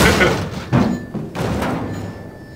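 A vent is smashed open in Half-Life 2 played in Garry's Mod, giving a few heavy thuds and thunks spaced over a couple of seconds, with people talking over them.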